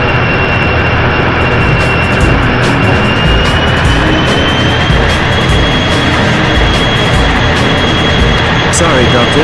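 Airplane engine in the video game 007 Racing: a loud, continuous jet roar with a steady high whine holds throughout, with voices partly buried beneath it.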